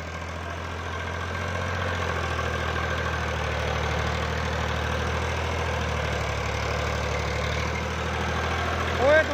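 A Powertrac tractor working in a wet, waterlogged field gives a steady, loud low engine rumble with a faint knocking texture that continues unbroken to the end.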